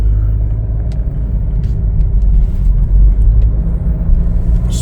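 A 2023 Chevrolet Trailblazer RS on a test drive gives a steady, loud low rumble of road and engine noise from inside the cabin, with faint clicks and no talking.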